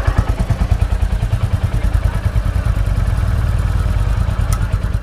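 A 2023 Royal Enfield Bullet 350 motorcycle idles close by, its single-cylinder engine giving off a loud, steady, evenly spaced thump with a faint mechanical clatter running under it.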